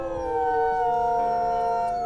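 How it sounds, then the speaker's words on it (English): A wolf howl in the WolfQuest video game, a sustained, clear, tonal cry that holds steady and loud for about two seconds, with no talking. "look at this new howl animation"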